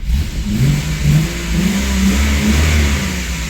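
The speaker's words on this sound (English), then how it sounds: "Good throttle response. It's exactly what we needed with some new spark plugs." Warmed-up car engine fitted with new spark plugs revs up strongly, a loud, close, continuous rising roar with a steady low growl and no talking.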